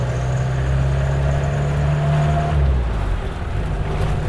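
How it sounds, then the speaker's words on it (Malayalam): The engine of a Mahindra Classic jeep runs with a loud, steady low rumble close by, shifting slightly in pitch partway through. "ശരിക്കും റിയൽ റോ എന്ന് പറയാം കാരണം എൻജിൻ ലൗഡാണ്"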